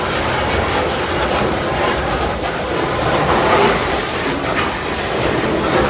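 A loaded coal freight train with DPU locomotives rolls by close and loud, its wagons giving a steady rumble and a dense rhythmic clatter that carries through the whole stretch, with no voices.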